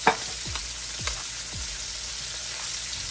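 Bacon fries in oil in a wok for seafood fried rice, a constant close sizzle broken by a few low knocks and thumps from the pan, with no speech.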